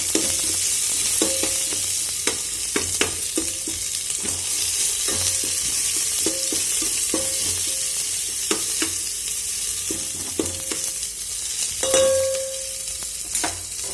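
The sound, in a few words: stirring chopped onions frying in a pan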